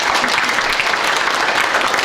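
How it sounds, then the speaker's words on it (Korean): At a formal 50th anniversary ceremony of the Syngman Rhee founding president memorial foundation, the audience applauds in a short, even wash of dense clapping with no pauses. "박수로 많이 주시면 고맙겠습니다."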